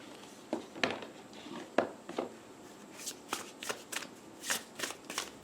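Oracle cards shuffle by hand in soft, quick riffles and taps, sparse at first and then coming in a faster run of crisp flicks, close and fairly quiet with no talk.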